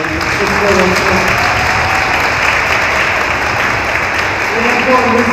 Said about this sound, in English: Let's give another hand of applause, everybody.